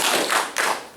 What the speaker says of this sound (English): You gotta work on that applause.